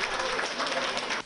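Cheering and applause from a crowd celebrating a human Go player's win over the AlphaGo artificial intelligence after a 180-move game, a steady wash of clapping that cuts off abruptly.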